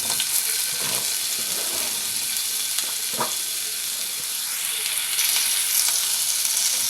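Ridge gourd peels frying in a pan, giving a continuous bright hissing sizzle with a few light stirring knocks, close and without speech.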